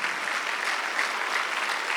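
A church congregation at a Sunday worship service applauds: dense, steady clapping from many hands, fairly loud and continuous throughout, with no voices rising above it.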